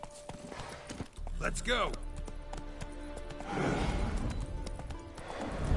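Horse hooves clip-clop in steady rhythm from a mount in The Witcher 3 game, moderately close, with a voice speaking briefly over them and a whinny-like tone early on.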